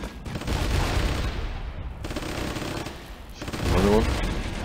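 Gunfire in the Flash game Warfare 1944: rapid, dense bursts of machine-gun and rifle fire rattle continuously with booming reports, swelling again near the end, while a voice talks over the battle.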